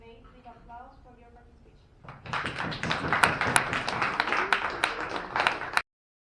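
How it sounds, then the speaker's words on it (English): A voice speaks briefly at the end of a debate, then a small group breaks into steady clapping that continues for a few seconds before stopping abruptly. "We can end the debate with applause for your"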